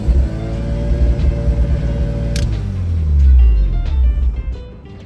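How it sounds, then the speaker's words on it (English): RX-7 13B rotary engine swapped into a Subaru BRZ, idling with a steady buzzing drone, then revved to a deeper swelling roar before being shut off and winding down. "When you turn it off, rev it up to 4 grand around, and then you kill it just to get all the fuel out"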